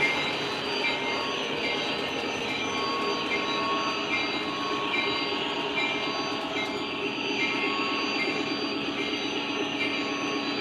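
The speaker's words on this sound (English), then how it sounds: "We'll stop the train with the coaches this time." An O gauge model train runs on a home layout with a continuous rolling hum and fine rhythmic wheel clatter, steady and fairly close for the whole stretch, with no talk.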